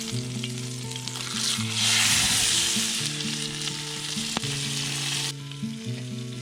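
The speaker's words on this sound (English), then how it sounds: "When the pan is good and hot, it's time to add the steak to get a nice sear." Steak sizzles steadily and loudly in a hot pan over a campfire, a dense crackling hiss that swells briefly, while a tonal background hum plays underneath.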